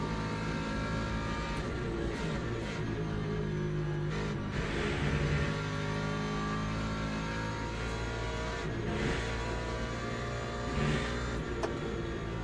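Ford race car in Le Mans Ultimate growling and revving through slow corners, a grunty engine rising and falling continuously with faint tire noise, loud and close throughout.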